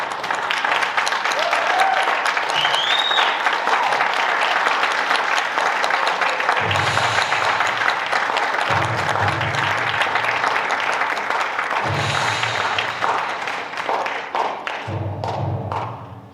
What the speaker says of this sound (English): join me in offering them a round of applause